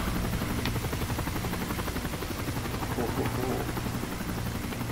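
A helicopter in Call of Duty: Modern Warfare 3 drones with steady rotor chop throughout, loud and dense, with voices talking underneath.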